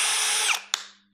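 A TOTAL cordless drill set to drilling mode whirs at a steady high pitch, then winds down with a brief second burst before falling quiet.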